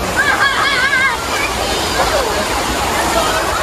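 River water sloshes and rushes steadily at the bank by a campsite in Sedim, Kedah, a loud continuous wash with people talking over it.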